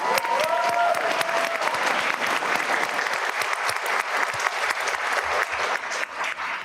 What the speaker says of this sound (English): I don't mind starting my own applause.